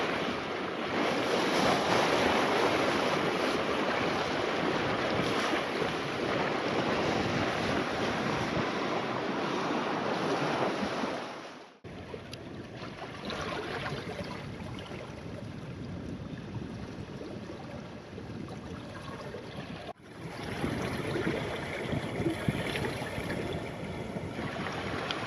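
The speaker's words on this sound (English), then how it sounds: "I love the sound of the bow wave." Bow wave of a sailboat on the sea off Landguard Point, Felixstowe, in the Thames Estuary, a continuous close rushing and hissing wash with wind, briefly dipping twice.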